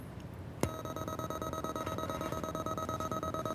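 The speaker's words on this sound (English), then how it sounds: "the reason why we're hearing sound is because this probe has this nice sensor on the end of it" A light sensor probe on an audio input turns a blinking LED matrix into sound: after a sharp click, a steady electronic buzz with rapid pulsing and a high whine, alarm-like and close.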